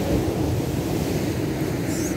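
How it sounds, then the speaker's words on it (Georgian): Rough, stirred-up Black Sea waves breaking on a sandy shore in August, a dense continuous roar of surf with wind buffeting the microphone, loud and close. "ზღვა არის. აღელვებულ, აბობოქრებულ, გაბრაზებულ და თან ქალახის ფერი"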